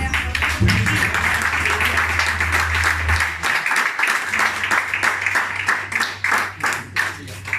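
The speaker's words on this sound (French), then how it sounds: "On peut applaudir, on va applaudir." Applause at a jazz master class on Cantaloupe Island: dense clapping fills the room throughout, steady and fairly loud, with a low hum underneath that cuts out briefly midway.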